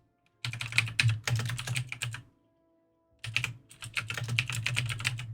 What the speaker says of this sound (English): I hate not being able to see what I'm typing here.